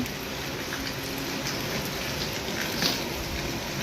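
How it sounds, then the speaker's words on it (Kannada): Steady, dense hiss of heavy rain pouring down, constant and enveloping with no voices, a few brighter spatters standing out now and then. "ಇಷ್ಟು ಜೋರು ಮಳೆ ಬರಕತ್ತೈತಿ"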